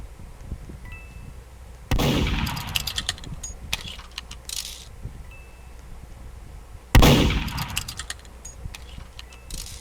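Gunshots in the video game Murder Mystery: two sharp, loud blasts several seconds apart, each with a short decaying tail, plus lighter clicks and taps in between over a quiet background.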